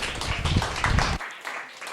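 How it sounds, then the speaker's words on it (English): An audience at a college athletics event claps for the men's golf team, a short burst of dense, fairly close applause that cuts off abruptly, leaving a quieter tail. "How about a big round of applause for men's golf,"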